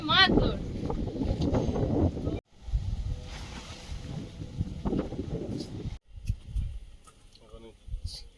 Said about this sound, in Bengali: বিশাল হাওয়া দিচ্ছে আপনার